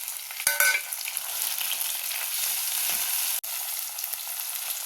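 Tomatoes hit a pan of frying onions with a bright, even, close sizzle that holds steady, marked by a few stirring scrapes early and a brief clack, with no talk.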